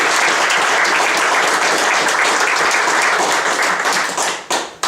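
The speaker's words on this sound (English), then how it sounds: "could you give them a round of applause?" A room of volunteers at a pheasant-opener hunter host training meeting gives a round of applause, loud and sustained, tapering into a few scattered claps at the end.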